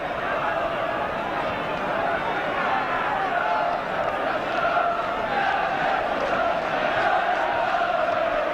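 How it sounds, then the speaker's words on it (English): A dense, steady roar of a large football crowd at a 1984 Newcastle United match against Brighton & Hove Albion, a continuous wash of massed voices and chanting with no pauses. "The crowd willing this goal."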